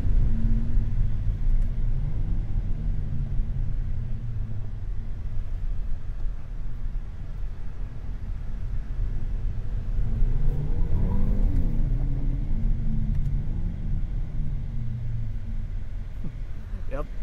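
Inside a 2025 Hyundai Elantra N Line on a test drive, a steady low engine and road rumble fills the cabin, swelling briefly as the throttle opens around the middle, with no voices over it.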